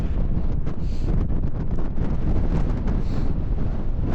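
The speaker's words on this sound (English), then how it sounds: "So yeah, the wind is up." Strong wind buffeting the microphone outdoors along a bridge in Uppermill, Saddleworth, a steady, loud roar with constant rumbling gusts and no pauses.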